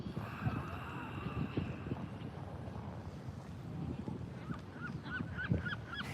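Geese or similar birds honk faintly several times outdoors amid steady wind noise on the microphone and a low rumble, with the honks clustered near the end.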